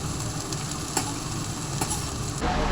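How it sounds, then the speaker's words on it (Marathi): Okra frying with garam masala in a home kitchen, a close, steady sizzle with a few soft clinks of a utensil, no one speaking. "फ्राय केलेली भेंडी गरम मसाल्यामध्ये"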